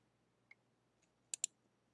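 A computer mouse clicks in camouflage design software: one faint click, then two quick, sharp clicks close together in an otherwise quiet room.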